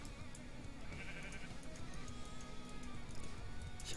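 Sheep bleating in the Minecraft video game, a faint repeated bleat over a steady busy background of game sounds, with no talking.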